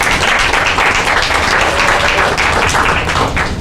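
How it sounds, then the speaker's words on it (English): An audience at a faith and mental health conference claps for a state delegate, dense continuous applause throughout at close range. "Can we give her a round of applause?"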